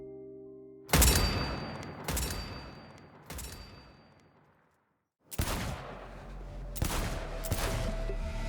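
Gunfire from a battle in the Cyberpunk video game: heavy, loud shots crack out one by one, trailing off into a brief silence before another burst of rapid, booming fire resumes.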